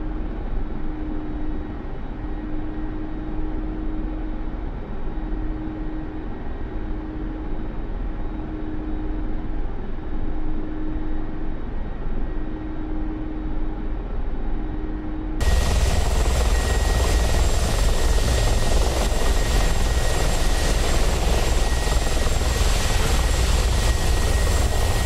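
Mi-24P attack helicopter in DCS settling in to land, its rotor and turbine drone loud and steady with a rhythmic blade beat, swelling sharply louder and brighter about two thirds through.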